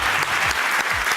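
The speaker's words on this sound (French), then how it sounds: "On applaudit très fort" Studio audience applause greeting a contestant on a French television talent show, dense and continuous clapping filling the room throughout.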